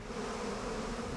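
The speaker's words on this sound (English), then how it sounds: "It'd be funny to just throw more bees at them." A swarm of bees in the fantasy strategy game Massive Chalice buzzes steadily and densely, a continuous close drone with no talk over it.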